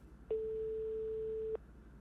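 A telephone ringback tone plays while a call goes through: one clean, steady beep lasting just over a second, with faint background noise before and after.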